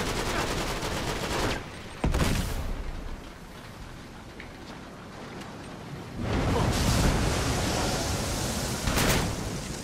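Gunfire in Uncharted 3: loud, dense bursts of shots and blasts, with a couple of sharp volleys early on and sustained firing near the end over a noisy battle.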